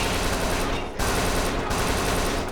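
Heavy continuous gunfire in Kane and Lynch 2, a third-person shooter, loud and dense with automatic bursts that briefly cut out and resume.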